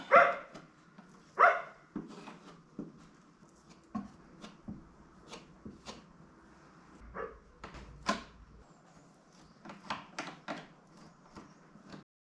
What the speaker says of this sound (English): The dog is going a bit crazy.